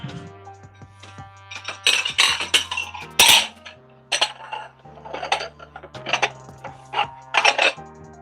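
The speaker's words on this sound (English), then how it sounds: "I have a whole lot of dishes waiting for you guys." Dishes and glassware clatter and clink repeatedly while being washed and put away, with bursts of plate knocks, glass chinks and running handling noise close by, no talk.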